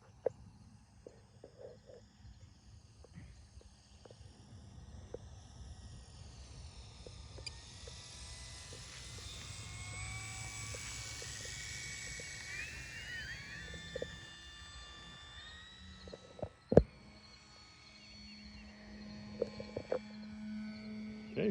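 A 3 m FMS Fox radio-controlled glider comes in slowly to land, its steady airy whine rising and sliding in pitch as it passes, with wind rumble below and a sharp knock near the end.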